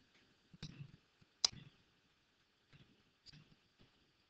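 A handful of sharp, isolated clicks from calculator keys being pressed, spaced irregularly, close and faint in an otherwise quiet room.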